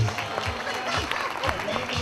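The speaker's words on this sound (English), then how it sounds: "Big round of applause, ladies and gentlemen." Guests at a Ugandan business awards gala dinner clap in a brief, even burst of applause while voices carry on underneath.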